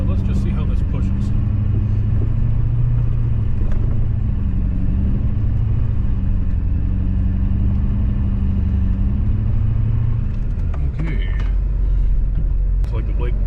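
A pickup truck's engine labors in 4 low while pushing a snow plow, a steady loud low rumble and drone that holds for about ten seconds before shifting, with some scraping clatter near the end.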